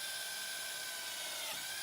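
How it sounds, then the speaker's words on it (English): A power drill on high speed drives a self-drilling screw into a greenhouse corner frame, with vice grips clamped beside it; steady close whirring and grinding continues for the whole stretch. "I'm going to put a self-driller in right next to the vice grips, and yeah, we're on high speed on the drill"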